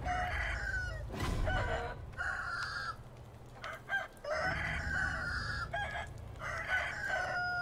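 Turkeys gobbling in Sekiro: Shadows Die Twice, repeated gobbles in bursts across the clip amid busy combat noise and a sharp hit, with no talk.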